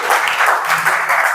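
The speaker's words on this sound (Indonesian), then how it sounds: "tepuk tangan dulu untuk Nabil." A group claps for a student, a short burst of steady applause filling the room, close and fairly loud.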